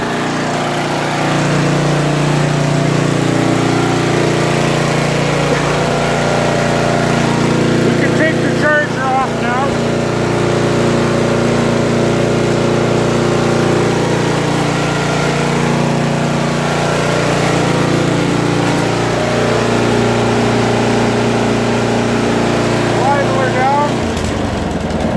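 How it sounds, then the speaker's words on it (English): A Lawn Chief 440 lawn tractor with a replacement engine idles steadily and loud throughout, a constant close mechanical drone with no speech over it. "this is running, so we'll idle her down, make sure she's going to idle"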